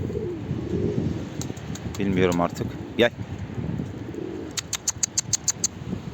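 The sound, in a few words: bird cooing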